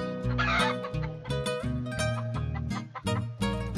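Criollo hens on a backyard laying flock cluck steadily and close by, several birds overlapping in busy, uneven bursts for a few seconds with no talk.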